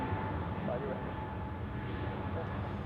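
A plane departing Zurich Airport for Madrid in gusty crosswinds, heard as a faint, distant, steady engine rumble with a low broadband roar and no distinct peaks.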